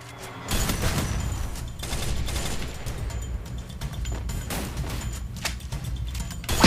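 FAMAS assault rifle firing in the Free Fire battle game: dense, sustained bursts of automatic gunfire, loud and close, rattling on almost without pause across the whole stretch.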